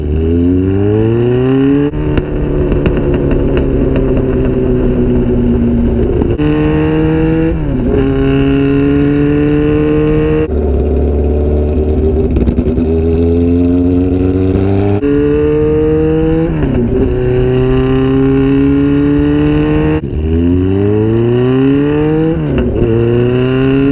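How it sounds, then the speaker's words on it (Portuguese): A motorcycle engine revving hard again and again, each rev rising sharply in pitch, then dropping back to a rumbling idle, loud and close with no talk over it. "sente só o som dessa moto."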